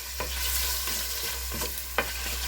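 Beef searing in a hot pan for a steak and Guinness pie, a steady close sizzle with a few sharper crackles and scrapes as the meat is moved, no talking.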